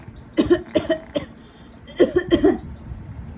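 Two bursts of short coughs, three quick ones and then three more after a pause, close and fairly loud over quiet background noise.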